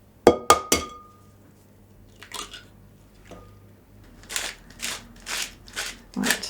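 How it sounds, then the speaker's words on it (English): Sharp glassy clinks and taps in a kitchen as an egg is cracked into a bowl of Swedish meatball mixture with onion, a few bright knocks followed by softer scraping sounds, close up with no talk. "I'm going to crack an egg in."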